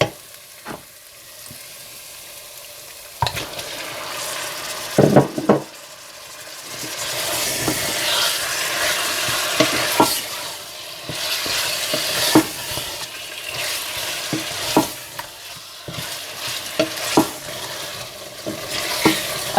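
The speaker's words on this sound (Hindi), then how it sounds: "इसके बाद इसमें गोश्त डालकर अच्छी तरह से भून लें।" Meat stir-fried in a pan for rogan josh, a steady sizzle and hiss with repeated scraping stirs and clanks of the utensil against the pan, close up with no talking.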